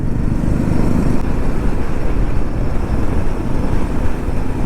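A new Royal Enfield Himalayan 450 out on a ride, its engine note blended with a steady, loud rush of wind noise throughout.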